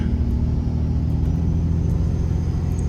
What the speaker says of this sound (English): Got the trans all built in her and installed. New flex plate, billet input, shift kit. Just running her through the gears.